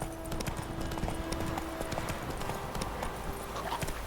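Roach, a horse in The Witcher 3, trots steadily with quick, even clip-clop hoofbeats close by, over a faint background of ambient game noise, with no talking.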